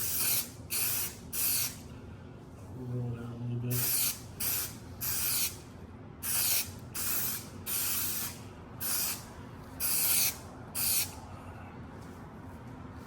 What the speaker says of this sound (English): I'm just gonna spray a little bit on the material.